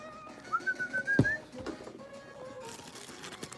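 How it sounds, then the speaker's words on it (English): Someone whistles a short melodic tune, a few quick rising and falling notes, close and clear over quiet background noise. "I'm whistling this music, man."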